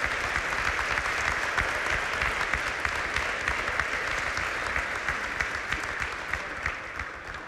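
An audience claps through dense, sustained applause at an award ceremony, a steady crowd of many hands that stays loud and slowly eases off toward the end.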